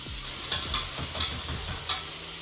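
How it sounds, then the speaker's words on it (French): Overheated oil sizzling in a pan, a steady frying hiss broken by a few close, regular scraping taps of stirring. "Vous savez quand l'huile elle surchauffe là"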